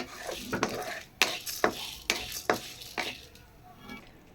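Drumstick leaves dry-roasting with lentils, dried red chillies and asafoetida in a pan: a spatula scrapes and clacks against the metal in uneven strokes, with a soft dry rustle beneath and no one talking.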